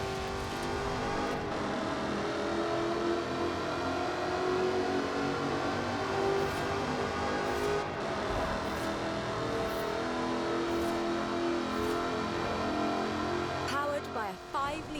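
Jaguar with a 5-litre supercharged V8 and aluminium body drives in Forza Horizon 4, a steady, loud engine drone with shifting revs that continues for the whole stretch while someone talks over it.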